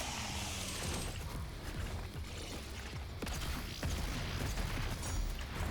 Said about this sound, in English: So that was a lot of explosions in my face